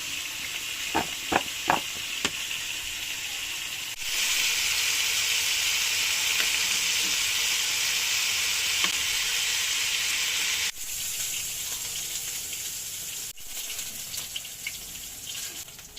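Food frying in oil in a pan, a broad steady hiss that swells loud and continuous for several seconds, preceded by a few light taps, then drops and resumes more softly, close by with no voices.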